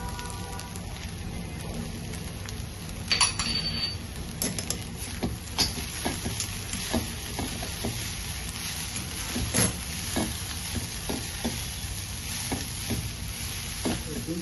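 Corn rice is stirred in a pan over a low gas flame: a steady soft sizzle under scattered scraping clicks and light taps from the spoon, with no voices.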